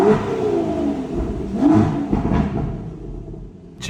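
A Lotus Emira sports car engine revs up and rumbles close by, its pitch climbing and dipping through several throttle blips before settling toward a lower growl.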